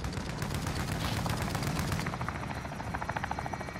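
A video game helicopter thuds with a rapid, steady rotor pulse, loud and close throughout, with bursts of game gunfire mixed in and no talk over it.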